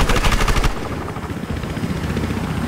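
Helicopter rotor chop and rapid gunfire from the video game Battlefield Hardline, loud and close, with a burst of fast shots at the start that gives way to a steady thumping rotor.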